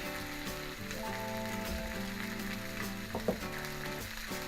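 Lorne sausage with black and white pudding cooking on a steel plancha, a dense continuous sizzle and crackle with a low mechanical hum running beneath, steady and close with one brief clack near the end.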